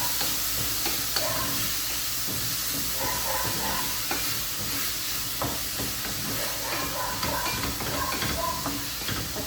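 Tomatoes stirred and fried in a pan, cooking for an egg rice lunchbox dish: a steady, close sizzle with scattered scraping taps of a spoon against the pan, no voices.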